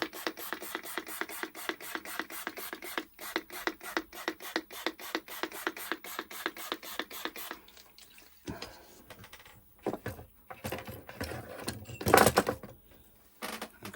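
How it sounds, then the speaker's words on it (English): Isopropyl alcohol scrubbing inside a Sony PlayStation PSone console: fast, even rasping rub strokes repeat steadily for about seven seconds, then stop, followed by scattered handling knocks and a louder scuff near the end. "give that a good scrub out if I can"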